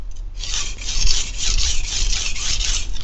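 Steady rasping rub of 220 grit abrasive across a sharpening stone, close and continuous with rhythmic strokes for about three seconds, no talking.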